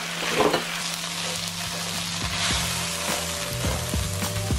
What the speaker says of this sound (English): at the very end, I like to throw in the cabbage